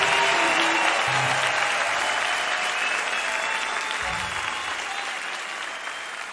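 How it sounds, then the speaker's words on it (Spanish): Sustained applause from a crowd at a live concert, loud at first and gradually tapering off, with no speech. "fuerte aplauso para él"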